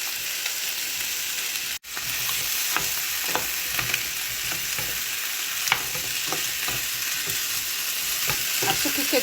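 Pieces of rabbit fry in a pan with herbs, giving a steady, dense sizzle close by, broken once by a sudden brief dip and dotted with light scraping clicks from stirring.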